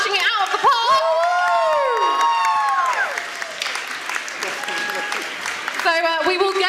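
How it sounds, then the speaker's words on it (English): An audience at a national awards ceremony in Norwich applauds and cheers loudly and continuously, with whoops and shouts rising over dense clapping and voices calling out throughout. "I think we should give them a massive round of applause for smashing it out of the park."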